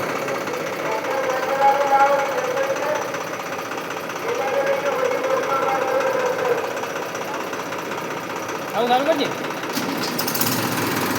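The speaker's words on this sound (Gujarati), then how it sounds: "ટ્રેક્ટર બંધ નહીં થતું હાથનો રેસ કરેલો છે પાછળ" A tractor engine with a stuck hand throttle keeps running and won't shut off, a steady loud knocking chug that rises and falls, with people talking over it.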